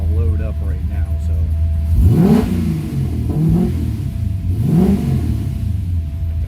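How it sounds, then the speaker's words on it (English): A carbureted LS V8 swapped into a Porsche 944, its plugs loading up, idles with a low rumble and then revs in three rising bursts that fall back, heard close up from inside the car. "You can hear the plugs are starting to load up right now"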